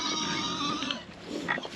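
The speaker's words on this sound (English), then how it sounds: "Hi, pigs. You probably need some more feed in your feeder," Pigs grunt and snort at their feeder on a small farm, a close, rough run of oinks lasting under two seconds.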